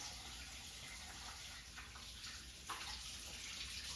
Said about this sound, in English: I'm washing my hands with soap because I handled raw meat.